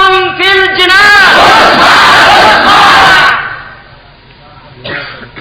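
A large outdoor rally crowd roars the Nara-e-Takbir slogan in unison after a leader calls it out, a loud massed shout that swells and fades, followed by a softer second response.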